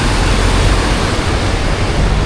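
Strong river current of rushing water, heard as a steady, dense broadband roar of churning water that stays loud and unbroken throughout, with no voices over it.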